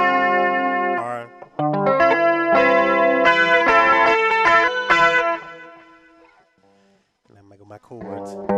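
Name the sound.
electric guitar chords through Boss GT1 effects processor, retro tone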